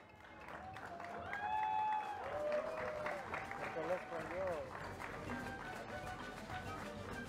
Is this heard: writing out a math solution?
no